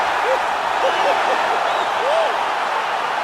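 Crowd in the EA Sports UFC 4 video game roaring after a knockout ends the fight, a dense continuous cheer with a few rising whoops over the top.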